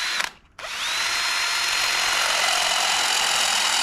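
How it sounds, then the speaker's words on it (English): A power drill bores into stainless steel on a Cheetah e-bike, starting after a brief pause and then whining steadily and loudly, close by, with no talking. "I'm gonna drill it."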